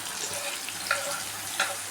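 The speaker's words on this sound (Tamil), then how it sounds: "இதை கொஞ்சம் கொஞ்சமாக போட்டு நம்ம பொரித்து எடுத்துக்கலாம்." Cauliflower pieces frying in hot oil make a steady, soft, close sizzle, with a couple of brief louder crackles as pieces shift in the pan.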